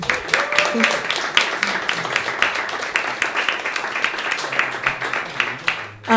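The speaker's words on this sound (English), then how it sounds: "Can we have another round of applause?" An audience at a reading event breaks into lively applause, with many distinct hand claps ringing out steadily for several seconds before fading near the end.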